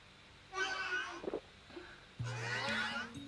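A ghost cat in Luigi's Mansion 3 meows twice: a drawn-out, wavering yowl, then a longer whining meow over soft low game tones, fairly loud and close.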